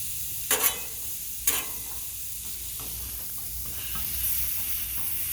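Diced potatoes spread thin on a Blackstone 36 Pro griddle give a steady, soft sizzle, with two brief louder scraping bursts of a spatula early on and quieter stirring after.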